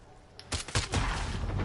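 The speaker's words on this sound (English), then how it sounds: "Explosion." An explosion in the Modern Warfare video game, a brief cluster of sharp bursting blasts that build into a rumbling roar, moderately loud.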